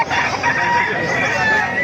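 A loud golden rooster, about 10 months old, crows nearby in one long, sustained call at a market in Calumpit.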